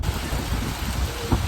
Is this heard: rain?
yes